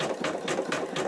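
An embroidery machine stitches an in-the-hoop wallet, laying down the knockdown underlay for a zigzag border. Its rapid, even needle pulses repeat about four times a second, close and steady.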